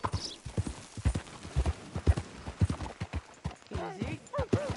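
Horse hooves clip-clop steadily at a walk in the video game Red Dead Redemption II, quiet and close, with a brief snort or whinny near the end.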